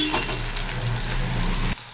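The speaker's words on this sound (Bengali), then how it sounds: "কড়াইটা আমার তেল গরম হয়ে গেছে, আমি দিয়ে দিচ্ছি উচ্ছেটাকে।" Bitter gourd fries in hot oil in a wok with a steady, close crackling sizzle and some stirring that cuts off abruptly near the end.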